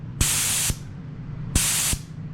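A spray gun spraying lacquer in a fan pattern gives two loud, steady hissing bursts of about half a second each, separated by a short pause, close up and alone.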